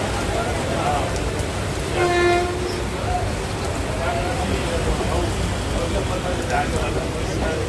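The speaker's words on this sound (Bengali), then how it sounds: "আমাদের ট্রেন ছেড়ে দিল দমদম স্টেশন থেকে" A train rumbles steadily on the tracks as it departs Dum Dum station, with a brief horn toot early on, the roar of the carriages continuing throughout.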